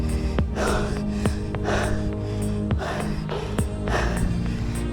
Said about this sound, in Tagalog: Hingal malala.